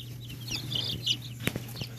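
Dark blue or gray Americana chickens at a poultry farm give soft, scattered clucks and chirps, with a few sharper calls near the end over a steady low hum.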